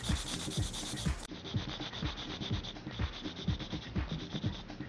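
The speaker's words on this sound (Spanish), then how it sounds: "nomás voy a limar casi siempre laterales. El frente lo voy a cuadrar." Rhythmic back-and-forth rasping of a nail file shaping the sides and squaring the front of acrylic nails, close and steady with regular strokes throughout, no talking.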